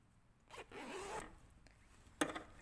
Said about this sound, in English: And if I zip up my zip